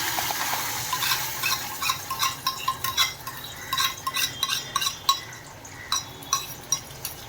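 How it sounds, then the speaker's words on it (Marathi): Ground onion paste stirred into hot oil in a pan while cooking methi matar malai, with a soft continuous sizzle and repeated light clinks of a spoon against the pan. "तर यामध्ये आपण हे वाटण केलेलं आहे कांद्याचं ते घालणार आहोत"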